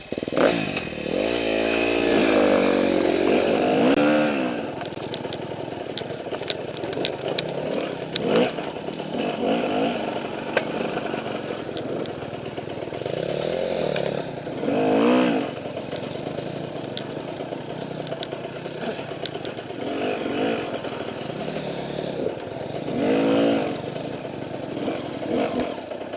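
KTM 300 two-stroke dirt bike ridden over trail obstacles and drops in a wooded city park, its engine buzzing and revving in repeated surges with steady throttle, heard close throughout with no talking.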